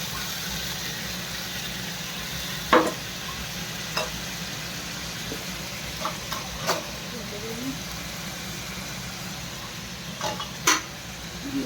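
Soybean curry masala with water being stirred in a pan, a low steady simmering bed with scattered soft scrapes and clinks of the spoon, faint voice-like murmur in the background.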